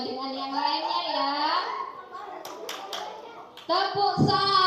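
A voice chants a Ramadan fasting clap chant over a few sharp hand claps at a primary school, with more children joining in near the end.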